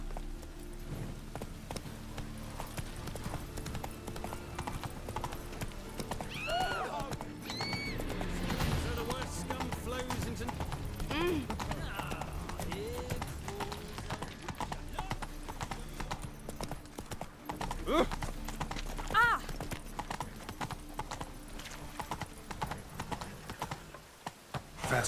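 Hooves of Roach the horse galloping in the video game The Witcher 3, a rapid continuous clip-clop rhythm running throughout with occasional whinnies and other game sounds layered around it.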